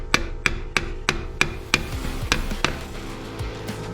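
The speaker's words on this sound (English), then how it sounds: "So I'm going to do the old drive the screwdriver" Repeated sharp hammer blows drive a screwdriver through a seized oil filter on a 1976 Chevrolet Nova, about a dozen ringing metallic strikes in a steady rhythm, close and loud, with no talk.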